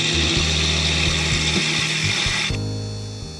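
A lathe turns a larch wood bowl with a steady loud hiss and scrape of the cutting tool, a low rhythmic thump from the spinning blank beneath, the cut changing abruptly partway through.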